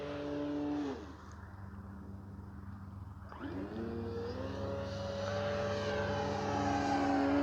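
A Hangar 9 J-3 Cub 10cc radio-controlled model plane drones steadily through the sky, its engine pitch sliding down, dipping, then climbing again as it passes and banks, growing louder toward the end with no one talking.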